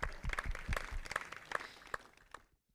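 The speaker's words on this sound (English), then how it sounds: "I'd like to go ahead and give a big round of applause to Look Cinemas for hosting us tonight." Audience applause at a Look Cinemas venue during a live coach's talk show taping: a burst of clapping from the crowd with a few sharper claps standing out, dying away to silence near the end.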